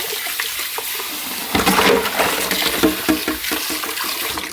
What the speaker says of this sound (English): we're just going to drain our pasta